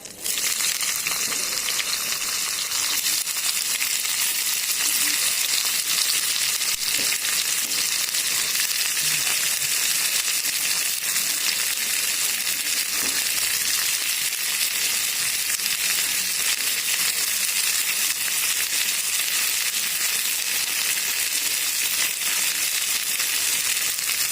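Cauliflower pieces frying in hot oil in a pan give a steady, loud, dense sizzle that runs unbroken and close throughout, with no talking.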